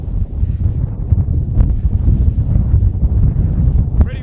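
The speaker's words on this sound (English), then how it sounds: "Pretty windy." Strong wind roars and buffets the microphone steadily throughout on a West Virginia wilderness height, a dense low rumble with gusty surges and no pause.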